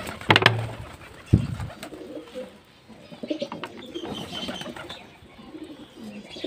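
Pigeons coo softly while being fed, with a couple of sharp wing flaps or pecks near the start and low murmuring coos throughout, close and fairly quiet.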